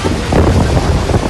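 Strong gusty wind in Delhi NCR, with rain setting in, roars loudly and steadily against the microphone in a short burst of dense, rumbling buffeting, with no voices.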